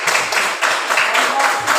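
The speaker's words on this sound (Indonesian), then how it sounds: "silakan tepuk tangan kelompok dua" A classroom of students claps for a group that has just finished presenting, a brief loud burst of close, uneven hand claps.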